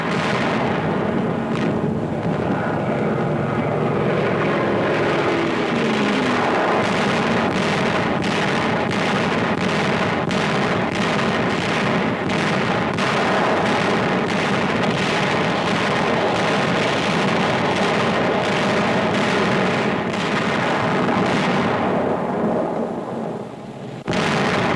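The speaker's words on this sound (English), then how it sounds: "That's a German Me-109 taking its last dive." A German Me-109 fighter plane goes down in its final dive amid wartime beachhead fighting at Anzio, a loud, continuous roar with heavy booming and crackling bursts of fire throughout, fading out at the end.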